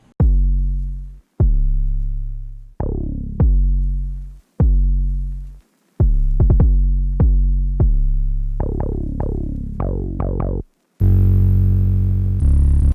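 In FL Studio, a trap pattern plays three different 808 bass sounds in sequence: deep booming hits at a steady pace, then quicker bursts of punchy notes, ending on a long distorted, gritty bass tone, all loud with no talking.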